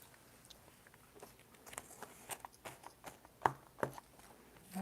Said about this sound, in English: I wonder if they hear me chewing.